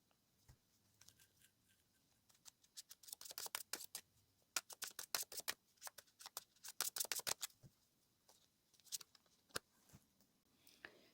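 Tarot luck cards being shuffled by hand, bursts of quick crisp riffling snaps that come in clusters with short pauses, close and fairly quiet, with no talking.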